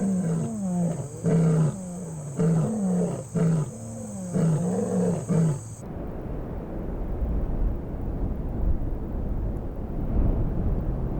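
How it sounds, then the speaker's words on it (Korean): Lionesses in the Okavango, fed after eating an impala, roar in a rhythmic series of deep, grunting calls to summon their cubs, loud and close, before fading into low wind rumble. "배를 채운 암사자들이 포효한다."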